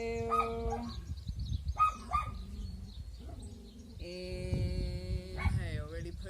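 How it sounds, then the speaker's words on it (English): Several dogs bark outdoors in short, repeated bursts with yips and a whine, fairly near, while someone talks calmly over them. "I apologise for the dogs barking"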